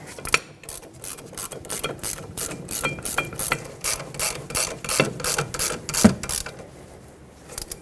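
A hand ratchet runs down the rear brake caliper bracket bolts on a 2006-2010 Hyundai Sonata, giving rapid, close clicking bursts stroke after stroke, with short pauses between them and no talk.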